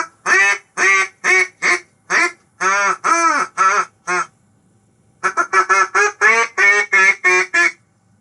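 Turned resin duck call blown in two runs of loud, close, nasal quacks, a regular sequence of about ten, a short pause, then a faster cadence of a dozen more.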